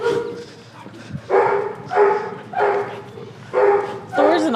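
Dog at an animal shelter barking in a run of five or six loud, evenly spaced barks mixed with yips, close by, with people talking nearby.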